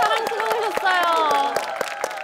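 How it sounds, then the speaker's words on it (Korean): Studio audience on a Korean TV singing-contest show claps in regular bursts, a steady rhythm of hand claps running the whole time beneath music and overlapping voices. "우리 선우 형님 선배님께 큰 박수 한번 부탁드리겠습니다."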